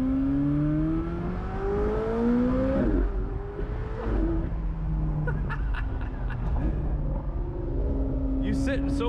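McLaren 720S supercar heard from inside the cabin at a Cars and Coffee gathering, engine revving and rising through gears with loud sweeping pitch climbs, with some faint clicks near the end.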